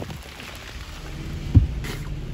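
Steady rain pours down in a dense, continuous hiss, with a single low thump partway through.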